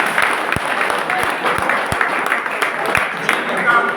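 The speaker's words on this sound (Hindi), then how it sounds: "तालियां इनके लिए।" Applause from the audience at a skill convocation ceremony, a steady spread of clapping across a hall with a few sharper individual claps standing out, holding evenly throughout.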